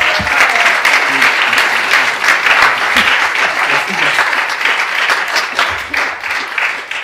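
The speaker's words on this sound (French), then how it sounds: "Good job, on l'applaudit." Loud, dense applause from a gathered group at a connection camp session, steady and sustained throughout, with a few voices mixed into the clapping.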